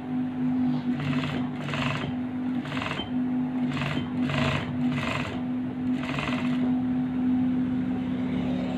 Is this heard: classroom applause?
no